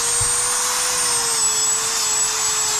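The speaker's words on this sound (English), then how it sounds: "so let's get into sanding." A power sander running on leather for homemade sandals gives a steady, loud motor whine with a constant high buzz throughout, no speech.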